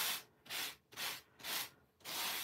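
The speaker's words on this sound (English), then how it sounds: "Even though it sounds like I'm really scraping it, I'm not." An ink pad dragged lightly across cardstock with almost no pressure makes four close, even scraping strokes, each about half a second long, with short quiet gaps between them and no voices.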